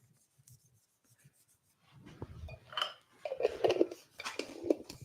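Sealer is rubbed by hand onto a wooden pencil pot, starting with faint scattered taps, then building into close scratchy rubbing strokes with light knocks, uneven in rhythm.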